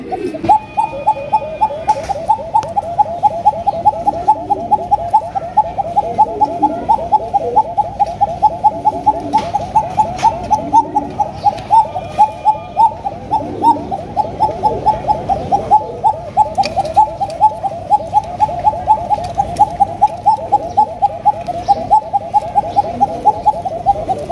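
A Bashiraj pigeon calling, a rapid rhythmic run of close, loud coos repeating steadily for many seconds with barely a pause, heard alone without talk.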